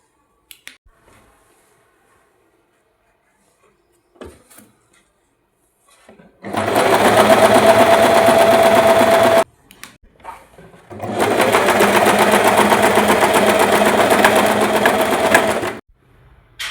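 Sewing machine stitching a fall onto a saree: two long, loud, steady runs of rapid mechanical stitching, separated by a short pause, after quiet handling clicks at the start.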